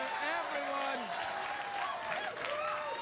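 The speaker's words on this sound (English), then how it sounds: "Please let your applause die away naturally" Studio audience applause at a late-night comedy show, a dense steady wash of clapping that holds loud throughout, with a voice talking over it.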